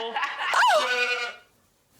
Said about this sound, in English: And then the goat.